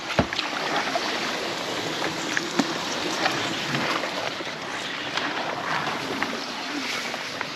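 Kayak paddle strokes in a small estuary, repeated soft splashes and drips over a steady wash of moving water, close and fairly quiet, with no talk.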